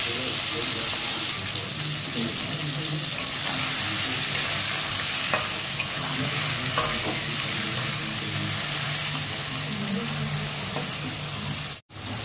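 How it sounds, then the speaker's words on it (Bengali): Steady, dense sizzle of turmeric-coated fish frying in oil, loud and close throughout, with a few faint clicks and a brief dropout near the end. "মাছটা এখন ভাজা হয়ে গেছে ভালোভাবে"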